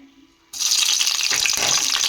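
Sliced green chillies hit hot oil in a pan with a sudden loud hiss after a quiet moment, then sizzle steadily and briskly up close.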